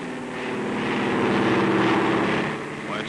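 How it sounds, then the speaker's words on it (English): A propeller plane drones overhead, swelling steadily louder toward the middle and then holding, with a faint voice underneath. "Well, it's a plane."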